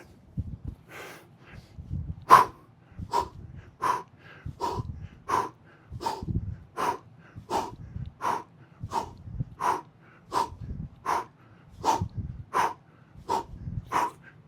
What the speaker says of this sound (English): I'll stop there so that you don't just hear me breathing.